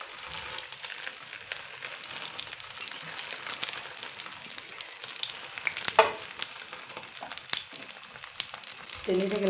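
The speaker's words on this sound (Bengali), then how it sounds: "আমি এটা তেলের মধ্যে ছেড়ে নেবো" A wrapped potato roll frying in oil, a soft continuous crackling sizzle with scattered pops and a louder burst near the end, close and moderate, with faint voices in the background.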